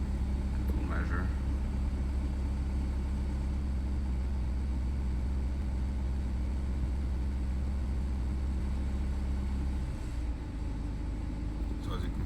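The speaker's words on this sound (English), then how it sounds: "What the car will do is it will put its RPMs up a bit itself." A BMW 320d F30 with the B47 diesel engine idles steadily as its revs rise slightly on their own during a service measurement, a continuous low engine drone that dips briefly near the end.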